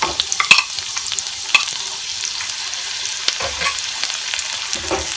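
Green chillies for chicken Manchurian fry in a pan with a steady sizzle, while frequent sharp metallic scrapes and clacks of stirring come close and loud throughout.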